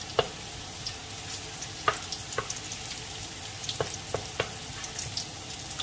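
Garlic frying in a pan until golden, a quiet steady sizzle punctuated by scattered light clicks and scrapes of stirring utensils across the pan, with no one speaking.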